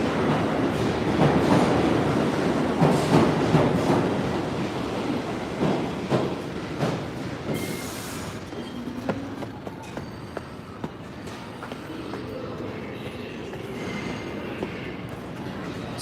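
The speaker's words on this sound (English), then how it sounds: "Number 6 train." A New York City Number 6 subway train rumbles loudly past on the rails with rhythmic clacking, then recedes into fainter squeals and station ambience.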